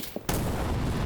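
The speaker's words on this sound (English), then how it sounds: "Oh, that's a missile." A missile strikes in a modern military video game scenario of Ukraine versus PMCs: a brief quiet gives way to a sudden loud blast that rolls on as a sustained rumbling roar.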